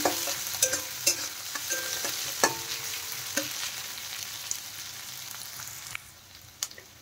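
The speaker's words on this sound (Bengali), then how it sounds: "এখন রসুন, লঙ্কা আর পেঁয়াজটা একটু ভালো করে ভেজে নেব।" Garlic, green chili and onion frying in a pan, a steady close sizzle broken by repeated sharp clacks of a spatula stirring against the pan, fading slightly toward the end; no voices.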